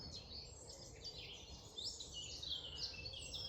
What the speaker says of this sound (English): you might just want to allow the bird song to soak into your bodies and your fields. They're particularly chirpy today.